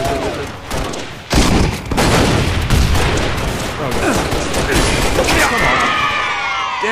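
DMR rifle fire in a free-roam deathmatch shooter game, a loud, dense barrage of shots and impacts with crashing, booming texture, sustained and close throughout, with a voice briefly audible.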